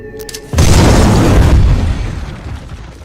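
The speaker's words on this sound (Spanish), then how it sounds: "construye su bomba y la prueba" A homemade bomb detonates in a test, a single loud, close boom that erupts abruptly after a brief quiet lead-in and then rumbles and decays over a couple of seconds.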